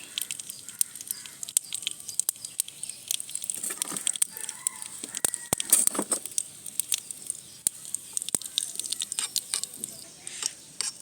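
Dried red chillies, cumin and mustard seeds fry in a little hot oil in a wok over a lit stove, giving a steady run of close crackling, popping and spitting with scattered sharper pops throughout.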